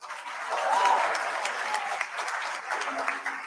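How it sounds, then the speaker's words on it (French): Studio audience applause on a French TV quiz game show, a steady wash of clapping that swells early and holds for a few seconds without talk. "On l'applaudit."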